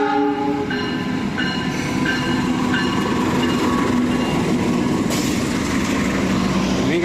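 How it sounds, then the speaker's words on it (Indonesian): A 2025 stainless steel new generation Argo Muria train passes close by, loud steady rumble and rail roar with horn-like tones, wheel clatter building toward a sharper rush near the end. "Kereta Argo Muria dengan stainless steel new generation tahun 2025."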